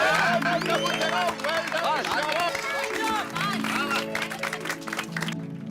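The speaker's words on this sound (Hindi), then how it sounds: "एक बार जोरदार तालियां हो जाए" Studio audience applause and cheering for a Hindi TV comedy, mixed with music and voices, steady and loud throughout, fading just before the end.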